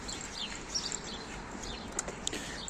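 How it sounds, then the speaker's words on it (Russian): Birds sing faintly outdoors on a chilly spring morning, a few thin chirps and short calls scattered over a quiet background hiss. "Вам слышно, как поют птицы?"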